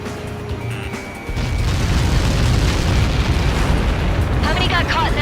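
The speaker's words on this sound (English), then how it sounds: "How many got caught in that explosion?" A massive projectile impact explosion in the combat flight game Ace Combat 7 erupts after a tone and hum, swelling into a loud, sustained roaring rumble with crackling debris, and radio chatter briefly breaks in near the end.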